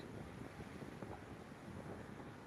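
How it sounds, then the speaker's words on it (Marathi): Strong wind blows outdoors by a lake, making a steady, faint broadband rush and rumble of gusts buffeting the microphone, with no voices. "वारं जोरात चाललेलं आहे तुम्ही बघू शकताय"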